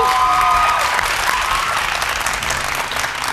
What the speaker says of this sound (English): Round of applause to Leader 4, Jabu.